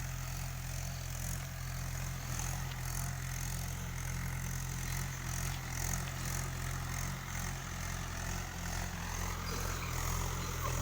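A steady low engine drone hums continuously at a distance, unchanging in rhythm, with no voices over it.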